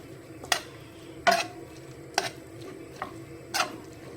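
A spoon stirring chopped mushrooms into a bastila filling in a pan, with five separate scraping clinks at an uneven pace, fairly quiet and without talk.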